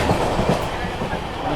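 Gurumukhi Superfast Express train running at high speed between Jasidih and Kolkata, a steady loud rumble of wheels on rails with rhythmic clickety-clack beats, heard from inside the moving carriage.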